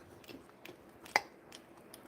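Crunchy French Toast Crunch cereal is chewed up close in soft, irregular crunches with one sharper crack near the middle, quiet and with no talking.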